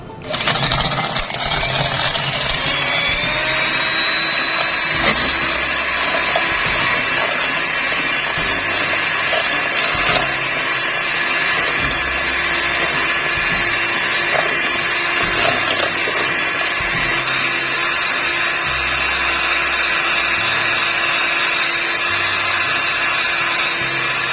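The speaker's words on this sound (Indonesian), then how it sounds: "Lalu kita akan mixer sampai putih kental dan berjejak. Kita mixer dengan kecepatan paling tinggi ya," An electric mixer beating steamed chocolate brownie batter at maximum speed, a loud, continuous high whine that holds steady for the whole stretch, close and with no talking.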